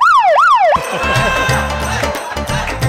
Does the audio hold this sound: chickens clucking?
no